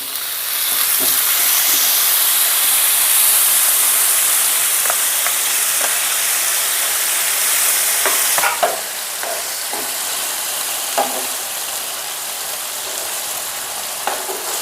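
Paneer cubes fry in hot oil in a kadai, a steady loud sizzle and hiss running throughout, broken by scraping clicks and knocks of a spoon stirring, in a village kitchen.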